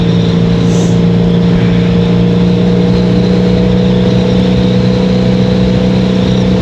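A 1983 Honda Magna V45 750 motorcycle drones steadily at road cruising speed, a loud, even engine hum with constant wind rush and no change in pitch.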